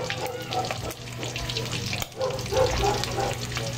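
Food fries in a wok-style pan during home dinner cooking, giving a steady close sizzle and crackle with faint water and stirring noises throughout, no voices.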